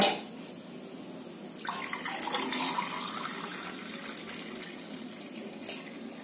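Mixed mint and lemon juice is poured into a glass in a steady, continuous splashing stream that lasts several seconds at close range.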